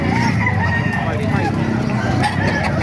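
Chickens clucking and a rooster crowing amid a busy, noisy background with people chattering nearby, at a chicken market in Calumpit.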